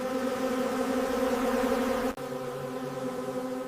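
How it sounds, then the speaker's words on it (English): Dense, steady drone of countless honey bees in a large hive at a honey factory, a continuous close buzz with layered tones and a brief dropout midway, with no voices. "millions of bees work together in a carefully designed environment that mirrors a natural hive"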